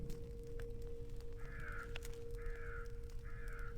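Crows caw in a churchyard in the video game The Lost Crown, three drawn-out distant caws at regular intervals over a steady low ambient drone and hum, with no speech.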